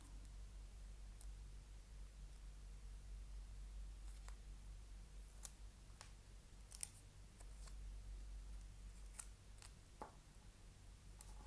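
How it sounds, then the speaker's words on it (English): Scissors snip marbled blue paper for a journal page, a few faint, sparse clicks and cuts spaced apart over a quiet, steady background hum. "Also got this lovely marbled blue paper, so I'm just going to cut off a little"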